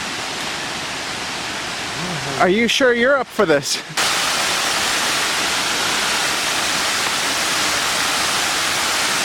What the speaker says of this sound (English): you get to the bottom of the waterfall